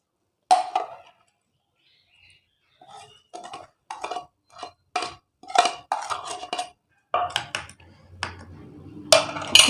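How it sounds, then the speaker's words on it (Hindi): Fish marinade of lemon juice, salt and garlic-ginger paste being mixed in a metal bowl with a spoon: irregular clinks and scrapes of utensil against dish, close and clear, with no talk. "अच्छा सा मिक्स करके लेमन जूस में शामिल कर देंगे सब चीज़ें"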